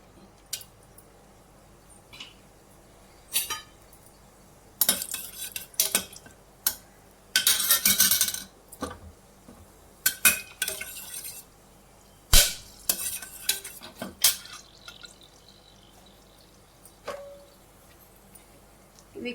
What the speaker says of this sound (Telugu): ఇప్పుడు నూనె వేడైనాక ఒక ఆకు చుంచుకొని, 2 లవంగాలు, కొంచెం చెక్క, 2 ఇలాచి, కొంచెం జాపత్రి